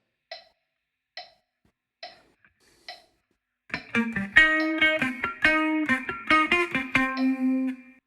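An electric guitar plays a bar of a song: four muted dead-note ticks, then a rhythmic run of clean, bright plucked notes and chords, close and alone.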